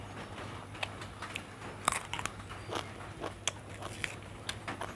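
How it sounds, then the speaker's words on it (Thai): Someone eats rice with chili paste by hand, quiet close-up crunching and chewing with occasional sharper bites over a faint steady hum. "วันนี้ขออนุญาตกินข้าวกับมือนะคะ"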